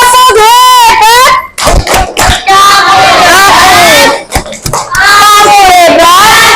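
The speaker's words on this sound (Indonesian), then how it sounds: "Sekarang coba kita tepuk hebat." A school class chants the 'tepuk hebat' clapping chant together, young voices rising in unison, with bursts of sharp hand claps in the middle and toward the end.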